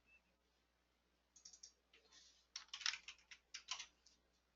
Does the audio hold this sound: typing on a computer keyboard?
yes